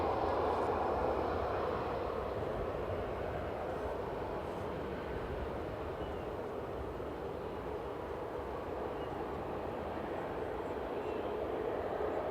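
An Etihad airliner moves at Manchester Airport, giving off a faint, steady jet rumble from some distance, unbroken and without voices.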